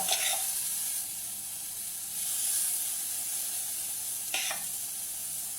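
Poultry patties frying in a very hot pan, a steady close sizzle with hissing steam that swells and fades, broken by a couple of sharp spattering bursts; no voices.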